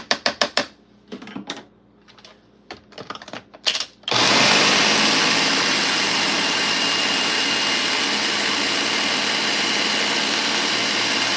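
A Ninja blender in a home kitchen during a Sunday morning bake roars to life after a few sharp clicks and knocks, then runs loud and steady without pause until the end.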